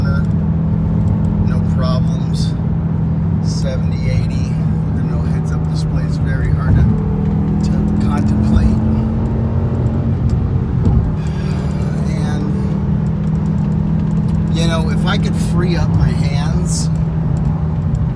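A BMW E60 M5 is driven hard, its engine a loud, steady droning hum from inside the cabin with occasional rising revs, while someone talks over it.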